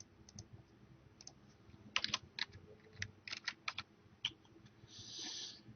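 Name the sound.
typing on a computer keyboard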